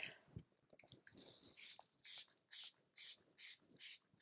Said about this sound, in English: I'm just going to go back in with this spray